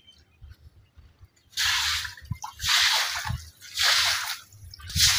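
Water drips and splashes on a house roof during light winter rain, with quiet low dripping followed by several loud bursts of splashing, pouring water.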